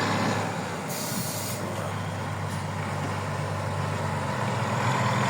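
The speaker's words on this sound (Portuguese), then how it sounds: "Esse caminhão vai tudo pra Campina Grande" A truck drives past on a road near a viaduct construction site in Pão de Açúcar, with a steady rumbling engine and a brief hiss of air brakes under continuous traffic noise.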